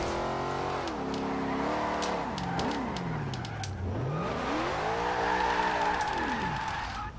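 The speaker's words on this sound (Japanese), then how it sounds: "これすぐね、ドリフトする、スピンする。" A car in the racing game Forza Horizon 2 drifts and skids, its engine revving up and down in sweeping pitch while tires squeal in sharp bursts, loud and close throughout.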